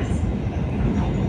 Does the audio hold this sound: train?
yes